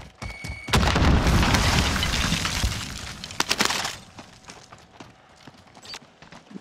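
A grenade explodes in Call of Duty: Modern Warfare with a loud, sudden boom and a rumbling, crackling blast that lasts a few seconds, then gives way to scattered sharp clatters and quieter background noise.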